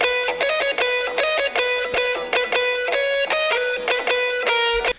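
A self-made distorted guitar lead in an FL Studio future bass track plays a rapid, choppy rhythmic pattern of bright harmonic-rich stabs with pitch slides, loud and continuous, with no talking.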